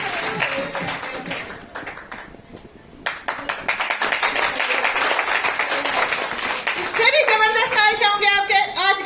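Applause at a Dauphin achiever awards event for network marketing, dense crowd clapping building to a steady loud roar, with speech mixed in beneath.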